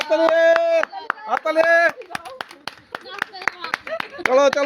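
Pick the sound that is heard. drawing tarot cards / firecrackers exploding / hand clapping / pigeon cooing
hand clapping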